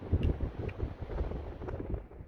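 Heavy wind buffeting the microphone while biking the Great Divide route in Wyoming, a steady low rumble with gusty swells throughout, no voices.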